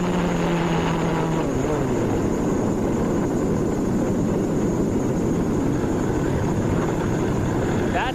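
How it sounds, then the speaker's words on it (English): A 1994 CART Indy car engine fails and blows up during the race at Michigan, producing a loud, continuous mechanical roar whose pitch drops early on as the engine begins to disintegrate. "That's what it's like to hear an engine blow, begin to disintegrate."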